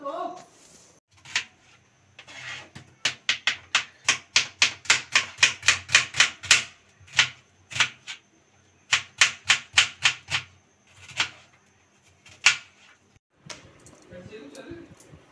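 A rolling pin works bhatura dough balls on a board in a home kitchen, knocking and rolling in fast regular rhythmic strokes, loud and close, in several runs with short pauses, and someone talks briefly at the start and end.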